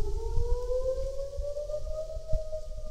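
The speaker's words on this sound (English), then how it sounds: "We got air raid siren goes off whenever they need the firefighters to come in" A small-town air raid siren calling in firefighters wails in a steady rising tone, clear but distant, over low background rumble and without any voices.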